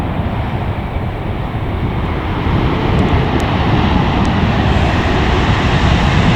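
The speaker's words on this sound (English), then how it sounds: "as we watch another airplane land. This thing is huge." A large passenger jet landing at LAX, heard as a steady, loud broadband roar mixed with heavy wind buffeting on the microphone, swelling slightly louder midway and holding to the end.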